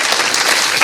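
Brief burst of dense, loud clapping from a church conference audience, a steady close wash of applause with no voices over it.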